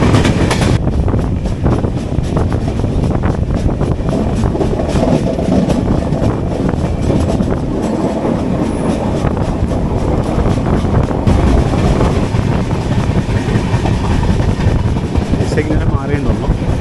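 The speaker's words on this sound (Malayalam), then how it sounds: "അത് മാംഗ്ലൂർ കോയമ്പത്തൂർ എക്സ്പ്രസ് ആണ്." The Mangalore Coimbatore Express rumbles past close by in a loud, sustained roar with rhythmic clatter and wind buffeting, heard from inside another moving train, with voices faintly under the noise.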